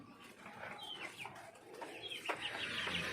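Young chickens clucking inside a coop on a morning farm, a steady overlapping chorus of soft clucks and chirps at moderate distance, with no voices.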